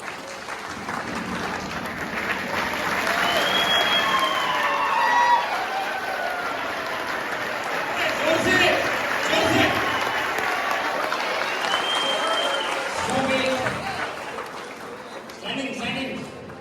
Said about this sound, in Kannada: ಹಾಗೆ ನೀವು ಚಪ್ಪಾಳೆ ಹೊಡೆಯಬೇಕು